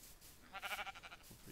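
Sheep in the Minecraft video game bleat in a quick, wavering, bleating burst at moderate level, faint in the background and not overlapping any speech.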